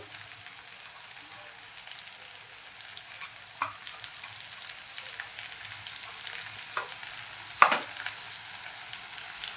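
Onion and grated coconut masala paste, added to tomatoes already cooked down in oil, fried and stirred in a pan for Malvani mutton sukka: a soft, steady sizzle with a few light spoon scrapes and one sharper clink near the end.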